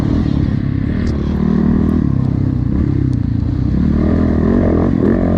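Motocross motorcycle in a muddy cross-country race, engine droning steadily and loudly near the rider with slight rises in pitch as the back end slides; no talking.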